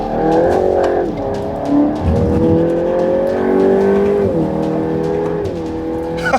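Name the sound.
GTI Edition 50 car braking hard from high speed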